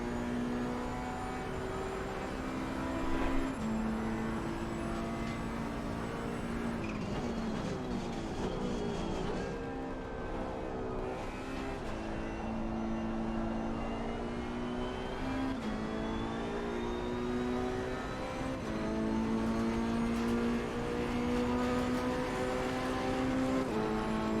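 Challenger DLC race car in a racing video game at Donington, its engine droning and shifting pitch through gear changes and revs, steady and continuous with no speech.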